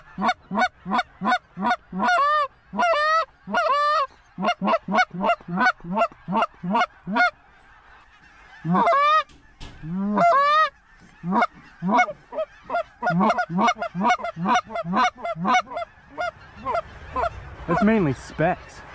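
A large flock of specklebelly geese honks repeatedly during a hunt, the loud, rhythmic calls overlapping in dense bursts that carry on almost continuously.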